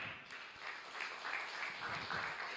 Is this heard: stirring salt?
no